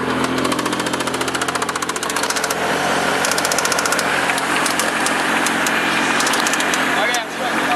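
A 1991 Dodge Stealth twin turbo engine idles loudly close by with a rapid metallic knocking tapping through the steady running note, continuous for several seconds.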